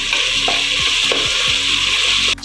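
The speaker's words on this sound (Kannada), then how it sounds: "2 ಟೊಮೆಟೊ ಹಾಕೊಂಡು ಫ್ರೈ ಮಾಡ್ಕೊಳ್ತಾ ಇದ್ದೀನಿ. ಸ್ವಲ್ಪ ಕರಿಬೇವು ಸೊಪ್ಪನ್ನು ಹಾಕೊಂಡು ಫ್ರೈ ಮಾಡ್ಕೊಳ್ತೀನಿ" Tomatoes and curry leaves fry with onion in a pan for a Coorg-style chicken curry, giving a steady loud sizzle throughout with a few soft stirring bumps and no talking.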